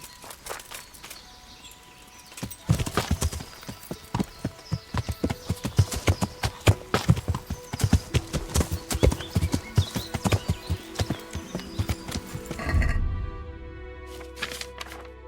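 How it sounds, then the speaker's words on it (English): Horse hooves clip-clop in Kingdom Come: Deliverance, a steady run of close, loud hoofbeats at a walking-to-trotting pace that fills most of the stretch, with a brief whinny-like burst near the end. "let's get on the horse and get out of here before we change."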